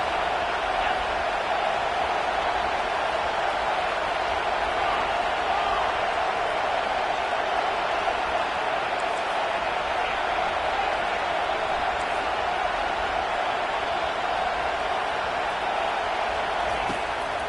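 Home stadium crowd in an American football video game, a steady dense roar of many voices sustained through a third-down defensive stand, even and unbroken with no distinct cheers standing out.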